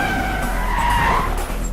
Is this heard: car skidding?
yes